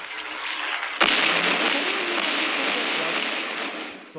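An explosion in the video game Happy Wheels hits with a sudden sharp blast, then a sustained, loud, hissing roar that fades only slightly over several seconds.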